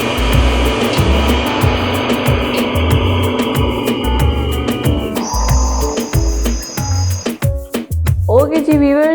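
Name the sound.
blender blending chicken seekh kabab mixture with spices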